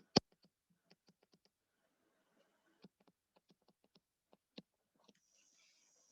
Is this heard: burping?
no